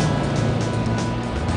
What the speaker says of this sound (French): La voiture fait d'innombrables tours du lac gelé.